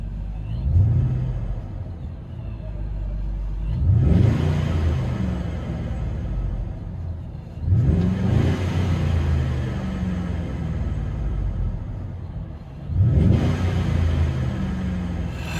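A supercharged 5.7L HEMI V8 RAM 1500 truck heard from inside the cab rumbles with a muffled, enclosed tone, revving up four times at regular intervals and settling back to idle between.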